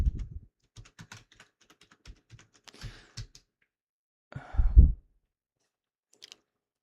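Typing on a computer keyboard in a quiet room, heard as scattered short bursts of clicks with pauses between, moderately close.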